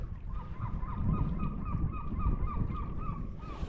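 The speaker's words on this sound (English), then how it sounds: "Look at them ducks there." Waterfowl floating on a fast tidal current at the shore in Straumen, Norway, give a steady series of repeated honking calls, close and clear, with no talking.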